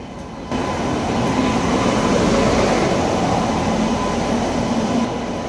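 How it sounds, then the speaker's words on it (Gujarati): A train arriving at a station rumbles steadily past at close range, a loud continuous roar of rolling wheels and carriages with no voices. "આપણે ટ્રેન આવી ગઈ છે"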